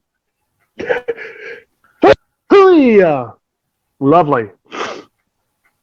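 A short, sharp sneeze bursts out between bits of conversation, followed by more talking nearby.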